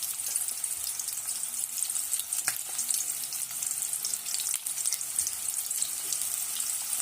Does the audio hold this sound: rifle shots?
no